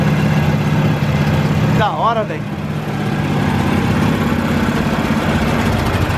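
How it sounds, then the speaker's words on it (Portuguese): A 212cc motor scooter engine runs on a dynamometer with a steady, loud, low idling drone throughout, while someone speaks briefly over it. "Patinete no dinamômetro, mano."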